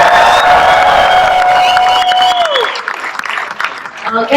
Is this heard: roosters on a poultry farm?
no